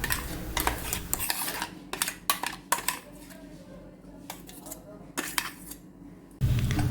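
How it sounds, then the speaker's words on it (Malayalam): A metal spoon clinks and scrapes against a bowl in a quick, irregular series of taps while apple snack batter is scooped across, with a low hum underneath. "നമുക്കൊരു വേറൊരു ബൗൾ എടുത്തിട്ട് അതിലേക്ക് ഇതിനെ പകർത്താം."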